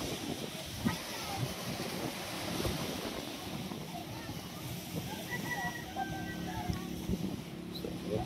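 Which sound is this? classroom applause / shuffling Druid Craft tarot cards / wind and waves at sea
wind and waves at sea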